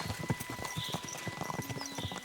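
Horse hooves clip-clopping in a video game, a quick steady rhythm of close, crisp hoof strikes on a hard surface with faint ambient tones behind.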